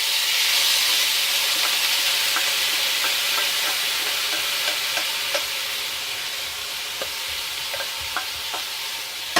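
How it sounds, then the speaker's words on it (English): Ground pork fries in oil in a pan with a loud, steady sizzle and hiss, close up, as scattered small pops and scraping stirs break through the constant frying noise. "we'll just put this meat onto the oil"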